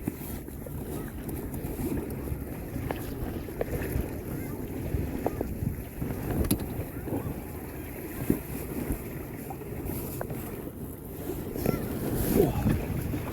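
A paddleboard rigged with a sail glides at about 3.5 knots across a Galician ría with no paddling, giving a steady rush of wind over the microphone and low water wash under the board, continuous throughout with no voices.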